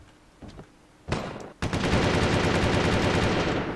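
Gunfire in the video game Windforge: a few sharp isolated shots, then a dense, loud, sustained burst of rapid machine-gun fire that continues to the end.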